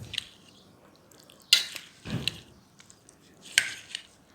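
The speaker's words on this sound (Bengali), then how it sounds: "তো এই তো ফলটা দিয়ে ভালো করে এখানে মিশিয়ে নিচ্ছি।" A spoon mixes falooda with fruit in a bowl, making a few separate clinks and scrapes against the dish over quiet background noise, with no talking.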